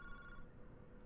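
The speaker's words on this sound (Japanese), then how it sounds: "ボス、電話が鳴ってますよ。" A telephone rings in the Paranormasight video game: faint harmonic ringing tones in the first half, fading out into low background hum, with no voices.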